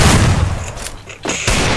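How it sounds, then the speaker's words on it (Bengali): A rapid burst of gunshots from the Free Fire video game, loud and close, with a short dip in the middle before the firing picks back up. "মামুনের দিকে টু শুটার নিয়ে ওয়ান টাপ মেরেছে, হেডশট কিন্তু মরল না সে ফয়সাল।"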